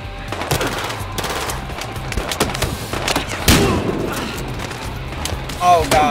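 Rapid machine-gun bursts and scattered gunshots in the video game Battlefield: Hardline, loud, repeated cracks firing in clusters, with voices talking over the shooting and a sharp whine near the end.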